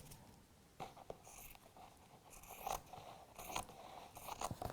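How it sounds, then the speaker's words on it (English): Crisp snipping and scraping of scissors cutting through a stiff PVC sheet, several irregular cuts, close and fairly quiet. "So keep moving the scissors along"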